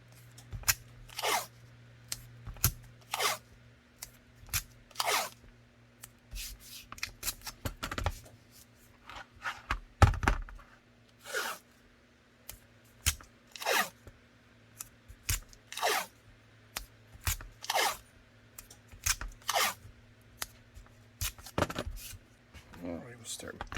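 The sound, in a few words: cutting tape layers for holster build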